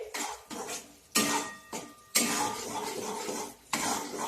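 Jaggery cooking over low heat in a pan is stirred continuously, giving repeated scraping and clattering strokes of a spoon against metal in irregular bursts, close and clear with no speech.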